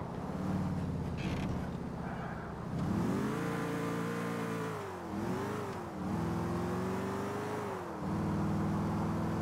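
Game car engine from Grand Theft Auto 4 drones steadily, its pitch rising and falling with repeated revs and shifts as the vehicle drives on, loud and continuous throughout.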